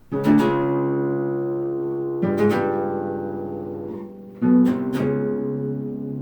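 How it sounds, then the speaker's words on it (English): A few plucked harp strings ring out and their pitch shifts while still sounding, notes sliding up or down; close and unaccompanied. "The pedal slide, where the string is plucked and then the pedal moved"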